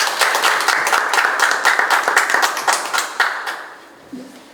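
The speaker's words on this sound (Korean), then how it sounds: "박수로 맞아주세요" Applause from an audience at a community meeting in Jungnang welcoming a center director to speak, steady clapping that fades out near the end.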